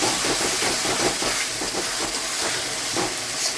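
Ginger, garlic, green chillies and tomato hit a hot pan for a lote fish curry, a dense and loud steady hiss of sizzling oil lasting the whole stretch with no talking.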